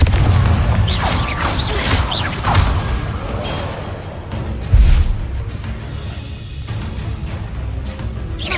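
A Confringo explosive spell blasts during a fight in Hogwarts Legacy, with whooshes and a heavy booming impact among loud, busy game effects.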